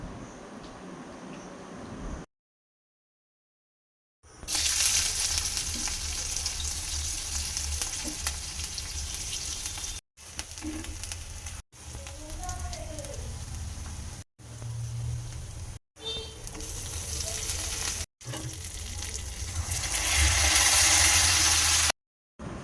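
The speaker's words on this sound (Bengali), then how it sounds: "এবার যেই মাংসটা ছিল সেটা আমি কড়াইতে দিয়ে দিলাম ভাজার জন্য।" Meat sizzles loudly in hot oil in a wok, a steady close crackling fry broken by brief cuts and occasional stirring.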